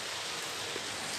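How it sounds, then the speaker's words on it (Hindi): Nonstop rain falls in cool weather as a faint, steady, even hiss with no distinct drops and no voices. "लेकिन यहाँ पे बारिश नॉन स्टॉप स्टार्ट है।"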